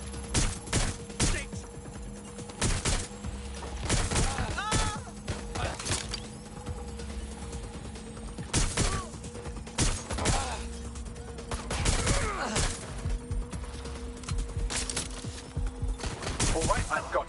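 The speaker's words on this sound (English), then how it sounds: "Suspect's shooting" Bursts of gunfire in the open-world game Watch Dogs Legion, several sharp shots scattered through the stretch over steady background ambience, with a voice talking at times.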